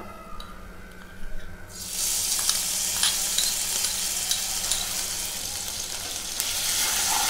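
Dried red chillies, panch phoron and grated ginger hit hot oil with a sudden loud sizzle that keeps frying steadily, after a quieter stretch with light clatter.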